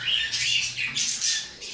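Pet cobalt-colored birds calling at close range, a loud run of shrill, repeated squawks and chirps in quick succession with no talking.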